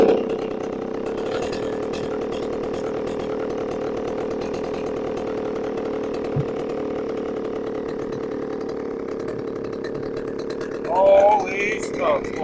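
A chainsaw running on a newly installed carburetor with the choke off, holding a loud, steady, buzzing drone close by for the whole stretch, with a brief rise near the end.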